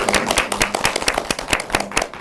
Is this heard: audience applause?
yes